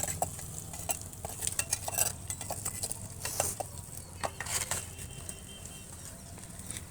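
Onions fry in a pan as they are stirred, producing a soft, quiet sizzle broken by scraping strokes and light metallic taps at an uneven pace, near but low in level, with no talking.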